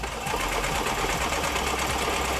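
A new sewing machine stitching steadily, a loud close mechanical whir with a fast even needle rhythm that runs without a break and has no talking over it.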